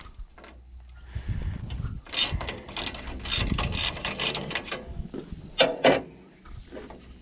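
A ratchet wrench clicks in bursts while backing out 12 mm side panel bolts on an International 234 tractor, the pawl chattering up close with pauses and a few metallic knocks between runs.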